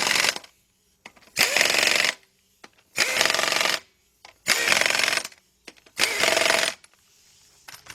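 An impact wrench tightens the wheel lug nuts on a 2007 Chevy Tahoe in a crisscross order, firing four loud, close bursts of rattling hammering separated by short pauses, with no talking.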